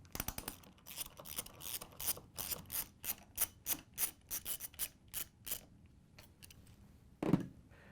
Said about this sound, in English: we're going to use a ratchet with an extension and a 5/16 inch socket to take out these 3 bolts